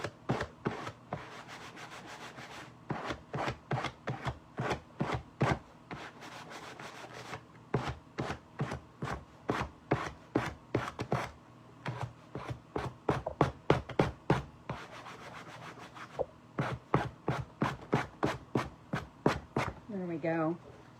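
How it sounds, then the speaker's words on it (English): A sanding block rubbed back and forth over black-painted wood to distress it: steady, rhythmic scraping strokes, close and clear, repeating in quick series with brief pauses between runs. "I'm just going to use my sanding block and kind of distress the black lines"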